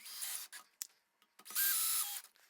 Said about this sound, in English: So let's get that screwed in.